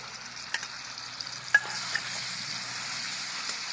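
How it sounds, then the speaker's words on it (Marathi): Green chilies dropped into hot oil crackle and fry with a quiet, even sizzle, a few light spatula clicks and one sharper tap partway through, and no one talking. "तेल मस्त गरम झालंय आपलं आता त्यात मिरची टाकून घ्यायची"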